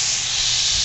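Butter sizzling hard in a hot pan for a Berkshire breakfast, a steady loud hiss and crackle filling the moment with no voices.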